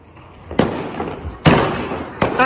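Diwali firecrackers go off close by in three loud, sharp blasts spaced about a second apart, each with a brief crackling tail, over a noisy festive background.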